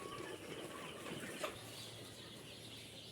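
Chickens cluck softly in a poultry brooding house holding Sonali hybrid chicks, a faint steady murmur of birds with a brief louder call midway and no speech.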